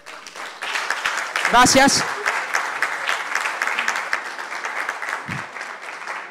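An audience at a public-management coaching event bursts into applause for the professors, a dense wash of clapping that swells then tapers, while someone speaks briefly over it.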